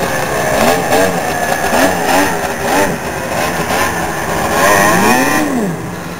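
A snowmobile engine drones loudly and steadily while riding a trail, its pitch rising and falling as the throttle is eased and opened again, close up and with no talking.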